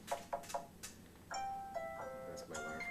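A phone alarm tone plays faintly at a distance as a short, repeating melodic pattern of electronic beeps, preceded by a few soft clicks.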